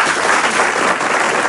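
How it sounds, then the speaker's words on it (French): Studio audience applauding steadily at a televised French evening show with France Gall, a dense, even wash of clapping that holds at the same level throughout, with no voices over it. "Les applaudissements, ils sont pour vous."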